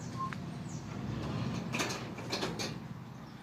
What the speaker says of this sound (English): here's it closing. This is brand new.